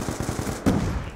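Rapid video-game gunfire, a quick automatic burst of close shots followed by a single heavier bang, no talk.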